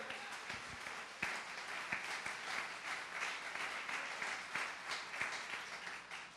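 Steady applause from a church congregation fills the whole stretch, a dense wash of many hands clapping at moderate distance with no voices standing out.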